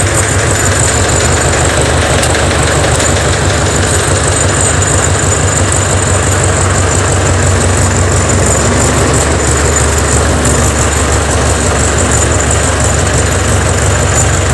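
A C-360 tractor engine idles continuously after starting, with a low rumble and constant vibration, unbroken and fairly loud throughout, no voices present.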